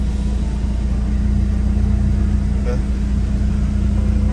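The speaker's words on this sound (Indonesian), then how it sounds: "kita hidupkan mesinnya. Aman ya idle-nya" A 1997 BMW E36 318i idles steadily with a smooth, even rumble, close and continuous throughout. A faint brief tick rises above it near the end, and no one speaks.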